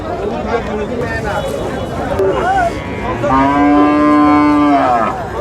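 Cattle moo loudly and close by at a livestock market selling Sahiwal and Friesian cross bull calves, one long low moo standing out over the babble of a busy crowd talking nearby.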